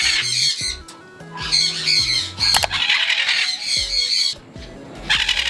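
A yellow-crowned amazon parrot squawks loudly and close in a string of harsh, rasping calls with brief gaps, some overlapping, in a bird cage setting.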